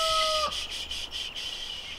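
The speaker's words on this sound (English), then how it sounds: "There he is! There's my rooster." A cartoonish rooster call from a farm video game opens with a short, clear two-tone squawk, followed by soft rhythmic game effects over steady background music.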